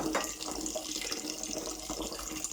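Tap water runs steadily into a sink while mao berries and guava are rinsed, a close, continuous splashing stream with small shifts as the fruit is moved under it.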